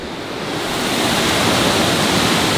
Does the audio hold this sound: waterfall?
yes